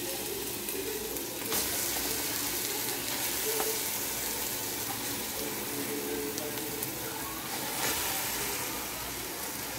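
Mashed sweet potato sizzles steadily in a pan with browned bacon, a close, continuous crackling hiss that runs without a break for the whole stretch.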